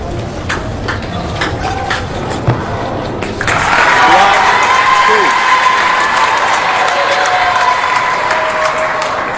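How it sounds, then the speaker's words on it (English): A crowd at a table tennis final applauds and cheers in support of Timo Boll, a dense, loud wash of clapping that swells after a few seconds and holds steady, with scattered thuds from the table earlier. "And you can hear the support for Timo Boll in the crowd."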